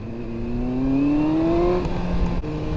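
A 2001 Yamaha R1 sport bike runs on a winter highway, its engine climbing steadily in pitch under heavy wind rush before a brief shift and settling, close and loud with no voices.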